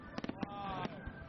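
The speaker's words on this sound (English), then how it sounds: "with the fireworks going off all around me" Fireworks crackle and pop around the listener during Chinese New Year celebrations in Tianshui, China, a cluster of sharp bangs over a steady background hum, with voices faintly present.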